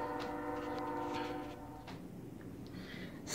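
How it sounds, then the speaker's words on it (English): A train passes at a distance with a low rumble, a faint sustained horn-like tone and scattered clanks, quiet throughout. "So now that the train has gone by,"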